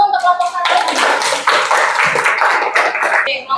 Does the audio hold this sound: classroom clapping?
yes